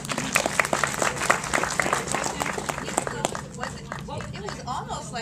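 Audience applause at a film Q&A, with a dense patter of claps from a crowd that stays steady for a few seconds and then thins and fades out, while voices murmur underneath.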